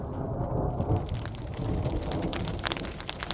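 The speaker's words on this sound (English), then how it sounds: "Even some thunder going off in the distance there." Rain falling at a forest campsite near tunnels, a dense steady patter of drops, with low rumbling thunder rolling in the distance underneath and a few sharper drip hits toward the end.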